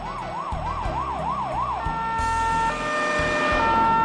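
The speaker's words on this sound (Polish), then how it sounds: "Już jadą karetki." A wailing ambulance siren sweeps up and down rapidly, then shifts to long steady tones as traffic rumbles underneath, growing slightly louder.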